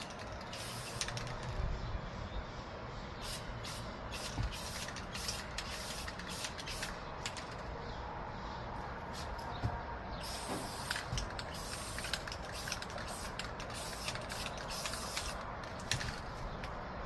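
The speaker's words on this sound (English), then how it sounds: "I'm going to spray it, prime it, hit it with the seam sealer, let that all dry up" Primer sprayed onto the hood hinges of a 1991 Honda CRX Si: a steady, fairly faint hiss broken by short bursts and mechanical clicks, with no talking.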